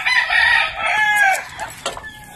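Backyard pet fowl at feeding time crow and cluck loudly and close by, a rooster's drawn-out crow running through most of the moment, followed by a few shorter calls, with no talking.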